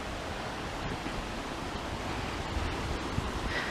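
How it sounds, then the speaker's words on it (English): A pine-lined creek in Bent, New Mexico flows under a bridge, giving a steady, broad rushing wash of water that stays even throughout, with no voices. "Yep, this is the same creek."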